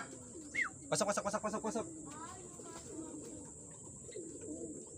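Racing pigeons at a loft give a brief burst of soft, rhythmic coos and bird calls around the one-second mark, with someone speaking nearby and quiet background noise.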